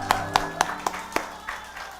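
Rhythmic clapping from a church congregation after a Korean Sunday service, about six evenly spaced claps in unison over a low steady hum, growing slightly fainter toward the end.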